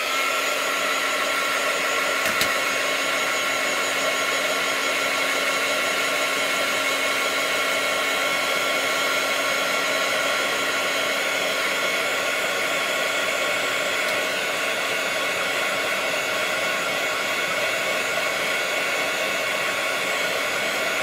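A hair dryer blows steadily and loudly at close range to dry a small painting, an unbroken whooshing drone with a constant motor whine throughout.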